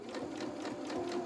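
A sewing machine stitches a re-usable fabric storage bag, its needle running in a steady, fast, even rhythm close by with no talking.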